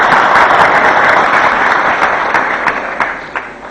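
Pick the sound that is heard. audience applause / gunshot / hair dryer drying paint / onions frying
audience applause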